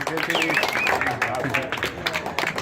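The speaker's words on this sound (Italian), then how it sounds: "Complimenti a Gianluigi, un applauso per favore" Festival audience at the fifth Ghirigori Festival applauds artist Gianluigi Mascia, a dense patter of clapping with a voice talking over it and some crowd murmur.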